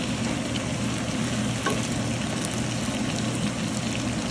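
Brinjal fry curry sizzling steadily in a pan while spice powder is slowly stirred through it, a continuous close frying hiss with soft scraping, no talk.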